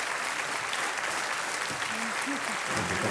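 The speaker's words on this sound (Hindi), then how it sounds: "तालियों के साथ अंजना जी का एक बार अभिनंदन हम करते हैं" Studio audience on a Hindi quiz show applauds contestant Anjana with steady, dense clapping throughout, while a host's voice briefly rises over it near the end.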